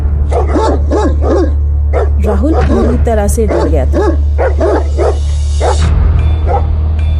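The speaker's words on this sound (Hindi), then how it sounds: "इससे वो गली के कुत्ते और भी नाराज हो गए।" Street dogs bark and yip repeatedly while chasing, close and loud, under a steady low hum and a voice narrating in Hindi over them.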